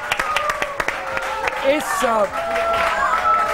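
A studio audience at a Ramadan iftar television broadcast claps in a short burst of scattered hand claps, mixed under a voice that speaks over them.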